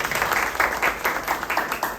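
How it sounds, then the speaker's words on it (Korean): Audience applause at a business forum before a speaker begins a talk on travel and rest, steady clapping from a roomful of people with rhythmic peaks throughout, fairly loud and close, with no speech over it. "박수 부탁드리겠습니다."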